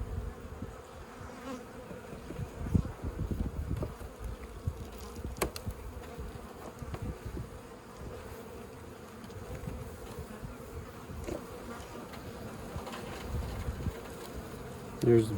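Honey bees buzz steadily around an open hive during a spring inspection in a bee yard, a dense, close, continuous hum with a few louder passes near the microphone.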